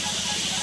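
Fish oil and fish roe from an American red carp fry with onion and chili spice on a village clay stove, a close, steady hiss of sizzling oil.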